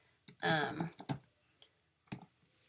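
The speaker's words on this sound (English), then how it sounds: "I'll just start typing in" Typing on a computer keyboard while searching a school library catalog, with a burst of quick clustered keystrokes followed by a few isolated clicks and pauses, close and fairly quiet.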